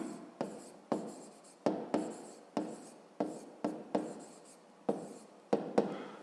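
Pen scratching on paper while writing out a fifth-grade math equation: quiet, close strokes in a steady series of short scrapes, each starting with a light tap and tapering off, about a dozen in a row.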